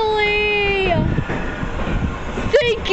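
An MBTA subway train moves through JFK/UMass station, with a high tonal whine that falls away into rumbling wheel noise and a second squeal near the end, loud and close.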